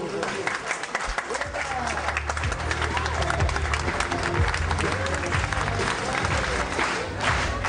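Audience applause breaks out at a French political event after a host introduces François Bayrou, steady dense clapping with cheers and crowd noise, while a loud low rumble and some talk run underneath.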